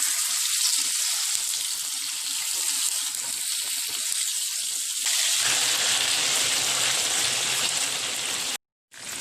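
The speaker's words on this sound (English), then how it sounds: "Now I'm going to fry my chicken." Chicken frying in oil in a pot gives a steady, close crackling sizzle that rises into a denser, louder roar about halfway through, then cuts off briefly near the end.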